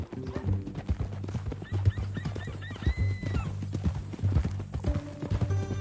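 Horse hooves clip-clopping steadily in Red Dead Redemption 2, a rhythmic run of close hoofbeats with a low rumble and occasional thunks beneath, joined by brief voice-like tones partway through.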